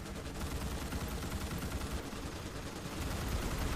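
Continuous rapid gunfire at a shooting range in Starship Troopers: Extermination, a steady dense rattle of automatic weapons with no breaks, moderately loud and unbroken throughout.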